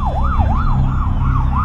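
An ambulance siren wails in a rapid, looping up-and-down yelp, loud and close over a low rumble of traffic or engine noise.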